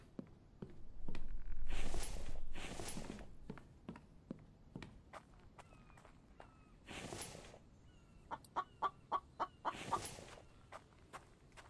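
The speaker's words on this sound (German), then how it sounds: "Das ist ein Vogel." Bird calls ring out in a survival video game, with sharp repeated chirps and a few longer calls spread across the stretch, mixed with short clicky footstep-like ticks and bursts of broadband noise.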